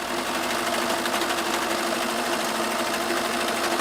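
A serger runs continuously through fabric for a dream idol dress, a loud, even, high-speed mechanical whir with fine rhythmic chatter and no pauses or voices.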